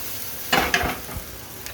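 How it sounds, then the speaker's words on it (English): Garlic frying in a pan for chicken cacciatore is stirred, a short close scrape or two over a faint sizzle, with no talk. "I am going to stir it quite regularly because at this point I don't want my garlic to burn."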